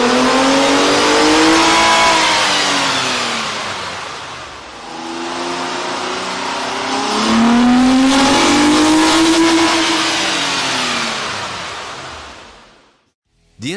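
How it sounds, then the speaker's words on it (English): A car fitted with a K&N 69-7002TTK air intake revving on a dyno, loud engine rising and falling in pitch through two long sweeps, close and alone, then cutting off sharply at the end. "With the air intake installed, we ran the vehicle on the dyno to test the sound comparison versus the stock intake."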